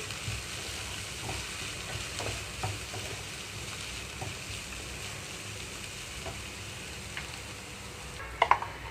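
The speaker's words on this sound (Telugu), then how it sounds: "రెండు నిమిషాలకు ఒకసారి కలుపుకుంటున్నాను" Curry leaves frying in a pan for a beans and moong dal fry, giving a steady close sizzle throughout with faint stirring scrapes, and a few sharp clinks near the end.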